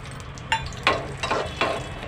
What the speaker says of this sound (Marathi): आता मी हे काजू हलकेसे असे भाजून घेणार आहे तुपामध्ये